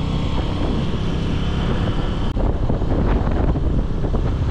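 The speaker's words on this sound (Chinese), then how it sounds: "在这个海边不是风大吗？" Strong wind at the seaside buffeting the microphone with a loud, continuous roar, with surf or water noise underneath and a brief dip midway.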